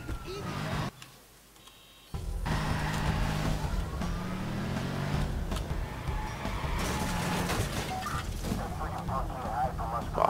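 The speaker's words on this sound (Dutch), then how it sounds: "Deze auto is heel anders rijden." A car driven in the video game Watch Dogs, with an engine revving and rumbling fairly loudly after a brief quieter moment, mixed with clicks and road noise as people talk over it.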